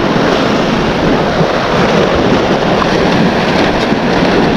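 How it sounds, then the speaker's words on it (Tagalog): Sea waves break and wash on Abulug Beach near Babuyan Channel, a loud continuous broadband roar of surf mixed with wind buffeting, with no voices. "These waves are the beauty of the sea."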